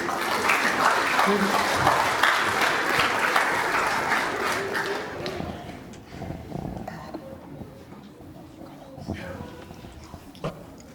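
Audience applause at a family event in Arue, loud and dense for the first half, then thinning into scattered claps with some crowd voices mixed in.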